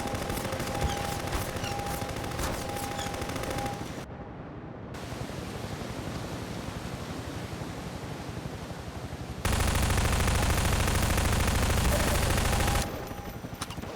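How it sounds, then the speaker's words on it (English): Gunfire from the video game Half-Life 2 as shots are fired at walls: sustained, dense automatic fire in loud bursts, with a short lull partway through and a harsher, louder stretch near the end, no talking. "I'm just gonna shoot the walls because I don't get what's going on"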